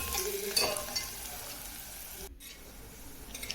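Onion, garlic and curry leaves fry in a pan for a brinjal bharit, giving a steady broadband sizzle with a few stirring scrapes and a brief dip near the end.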